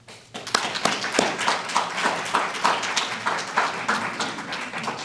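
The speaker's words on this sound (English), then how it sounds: "I want you all to give a round of applause to your village" Scattered clapping from a banquet audience at a scholarship event, a loose patter of individual claps that thins out rather than building into a full ovation.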